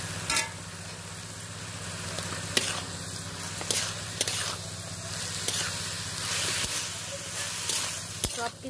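A spatula scrapes and stirs a vegetarian vegetable chorchori seasoned with salt and chili powder in a frying pan, with soft sizzling under irregular scraping knocks and a low steady hum.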